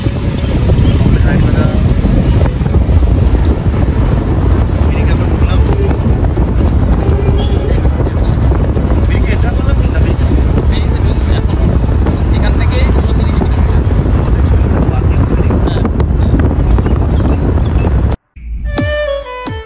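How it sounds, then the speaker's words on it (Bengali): Cool wind rushes steadily and loudly past the microphone during a road journey, a continuous roar with vehicle noise beneath it, cutting off abruptly near the end. "না রোদ না বৃষ্টি না গরম, দারুণ হাওয়া, ঠান্ডা হাওয়া হচ্ছে একটা।"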